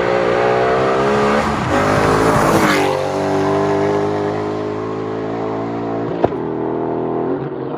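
Coyote V8-swapped Ford car accelerating hard under a loud continuous engine roar, with rising revs and a gear change near 7,800 RPM, heard close with no talking.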